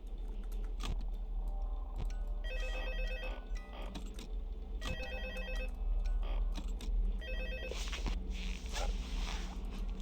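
Phone ringing in the Five Nights at Freddy's video game: three repeated trilling ring bursts over a steady low fan-like hum, with occasional clicks.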